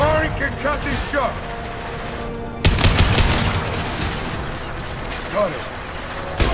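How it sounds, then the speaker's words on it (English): A concussive shot fires in Mass Effect 2 amid a busy firefight, with a sudden loud blast followed by dense clattering gunfire, mechanical rattles and voices over the combat. "Firing concussive shot!"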